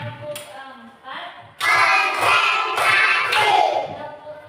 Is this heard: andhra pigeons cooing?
no